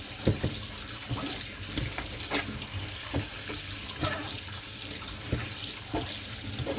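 Water runs from a faucet as it is added to durum wheat semolina being mixed into a paste, a steady trickle broken by soft wet dabs and stirring knocks, close and moderate.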